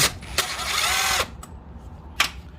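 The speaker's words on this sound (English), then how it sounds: "we're just gonna use the impact to loosen this bolt now." An impact wrench loosens a bolt on a 2001–2017 Honda CR-V 2.4L during a water pump replacement: a few short sharp bursts, then a sustained whirring rattle of about a second, and one more brief burst, close and loud.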